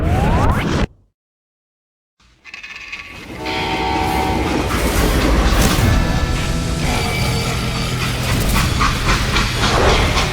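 A freight train in the video game Call of Juarez Gunslinger cuts out into a short silence, then comes back as a loud, continuous rumble of rolling wagons with rhythmic clatter and horn-like tones.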